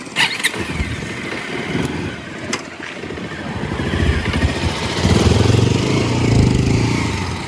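A motorcycle engine runs steadily, its low rumble growing louder and rougher toward the end, with no talking.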